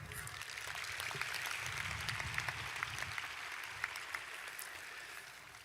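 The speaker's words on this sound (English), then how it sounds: "Let's give them a round of applause." Sustained applause from a large audience at a spring commencement ceremony, a dense, even wash of clapping with occasional sharper claps standing out, holding steady before tapering slightly.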